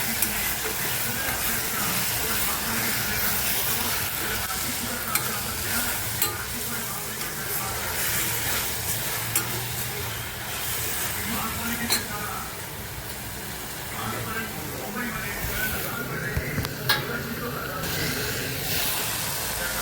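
Vegetables sauté in a pan for a vegetable dish, making a continuous sizzle with frequent scraping and stirring clatter. The sound is close and fairly loud, and now and then a voice speaks over it.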